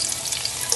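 Chopped onions for a mince meat dish hit a hot pan and sizzle steadily, a close, even crackling hiss lasting under a second with no voices.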